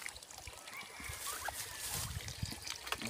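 Water trickles and splashes softly at the base of a young grafted lansones tree being watered, a faint steady flow with small splatters throughout.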